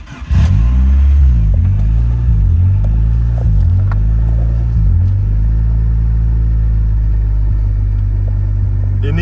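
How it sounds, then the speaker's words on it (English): Damaged Honda Civic with a crumpled left front end, revving in neutral with the parking brake up: a loud, close engine rumble that climbs and falls through several throttle blips, then settles into a steady idle, with no talking. "let y'all hear the car"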